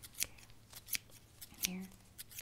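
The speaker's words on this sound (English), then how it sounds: "we just have a little area to snip right here" Close, crisp snips of barber's scissors trimming beard hair in a small patch, a few separate cuts spaced across the moment with soft handling sounds between.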